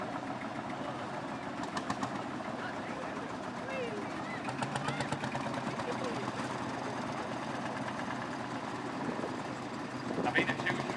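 A Field Marshall two-stroke tractor engine runs steadily at a vintage tractor show, a continuous loud mechanical chugging throughout with a brief rise near the end.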